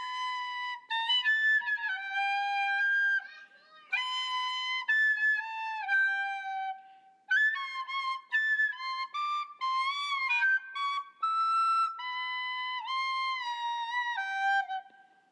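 Recorder played poorly, with wavering, squeaky, overblown notes in uneven phrases broken by short gaps, heard alone and fairly close.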